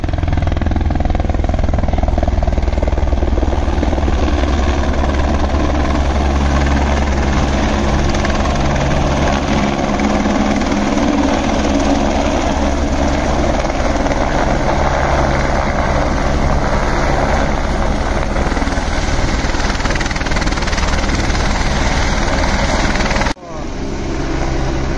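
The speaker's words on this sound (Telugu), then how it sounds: "పక్కన హెలికాప్టర్ ఉంది." A helicopter at the Kedarnath helipad drones steadily with a throbbing rotor and engine roar, loud and continuous for about twenty seconds before cutting off abruptly near the end.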